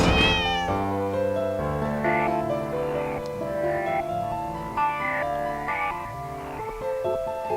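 A cat meows repeatedly in The Cat Lady video game, the cries close and clear and woven through layered, sustained tonal game sounds with no talking.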